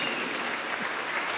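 A concert audience applauds a veteran Venezuelan rock musician, a dense, continuous roar of clapping from a large crowd that holds steady and loud throughout.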